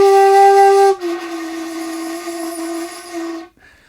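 A shakuhachi plays a single breathy tone, then the note bends down from Re to a pitch that sits too low, held for a few seconds before the flute cuts off, played solo without speech.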